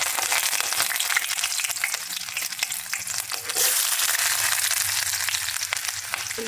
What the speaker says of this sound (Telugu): ఆయిల్ పోసాను, తాలింపు గింజలు వేసేసుకున్నాను. ఇప్పుడు పచ్చిమిర్చి వేసేసానండి.